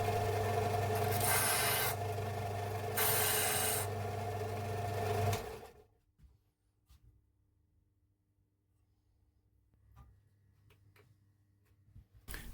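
A wooden ring blank is sanded in loud, steady rasping bursts for about five seconds, then it cuts off and leaves near silence with faint scattered ticks.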